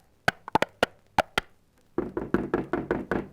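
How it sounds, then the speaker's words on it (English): Knocking on a door in an old-time radio comedy, first several sharp, spaced raps, then a fast run of heavier, booming pounding blows, loud and close with no talking. "He came to the first house and pounded on the door."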